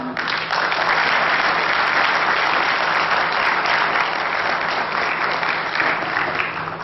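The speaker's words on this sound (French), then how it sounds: "Mesdames et messieurs, applaudissez Monsieur Sabir Jafar." Sustained, loud audience applause for Sabir Jafar at a Madagascar pétanque masters event, a continuous wash of many hands clapping without letup.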